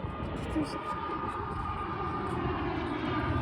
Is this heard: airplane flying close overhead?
yes